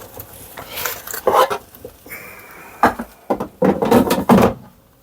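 A smoked Tesco 750 gram gammon joint being taken out of a dual blaze air fryer: clattering metal basket and tray knocks and scrapes in several bursts, close and fairly loud, with no talking.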